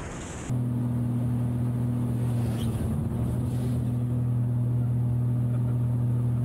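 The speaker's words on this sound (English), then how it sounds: "I can definitely hear the wind hitting the surfaces and stuff" Wind roars over the surfaces of a small aerobatic plane in flight, a loud, steady rush with a constant engine drone beneath it that begins abruptly after a brief quieter moment, with no voices.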